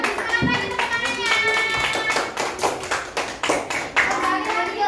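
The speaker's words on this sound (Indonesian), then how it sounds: "Lebih semangat lagi tepuk tangannya." Schoolchildren clap in a classroom, a dense run of hand claps lasting throughout, with children's voices talking over it.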